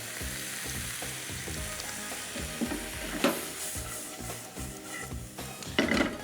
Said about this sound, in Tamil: இந்த ப்ரான் வந்து டேரெக்டாக வந்து பேன்லேயே டாஸ் பண்ணணும்